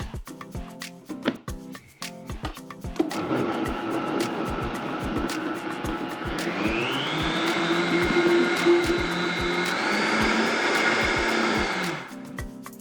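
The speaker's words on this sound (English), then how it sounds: "we're gonna hit it on the blender" A blender whirs steadily for several seconds, its motor pitch climbing and shifting as it churns a thick milkshake, loud and close, then cuts off.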